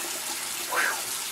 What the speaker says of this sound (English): That is some cold water coming out of that tap